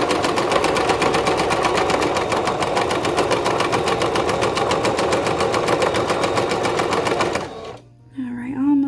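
A sewing machine runs in a steady, loud, fast stitching rhythm for about seven seconds while back-stitching down a folded strap on a child's romper, then stops abruptly, followed by a brief mechanical clunk.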